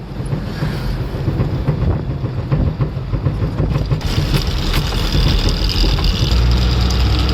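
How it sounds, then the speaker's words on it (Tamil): A loaded lorry's diesel engine labours under full throttle with a steady, heavy low drone, joined by wind rush and road rumble that grow slightly rougher partway through. "ஒரு ஆக்சிலேட்ரு ஃபுல்லாக அழுத்தி தான் பிடிச்சிருக்கேன்"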